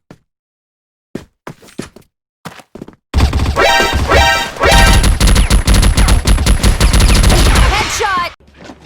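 A Gatling gun in a video game deathmatch opens up after a few isolated shots: a long, loud, rapid burst of continuous fire lasting several seconds, with a short pause midway and sharp impact cracks layered over it.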